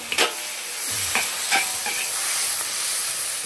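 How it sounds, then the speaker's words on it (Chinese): Chili peppers stir-fried in a wok, a continuous hiss of sizzling oil broken by several quick scraping tosses of the spatula, close up and fairly loud, without speech. "再炒一个辣椒"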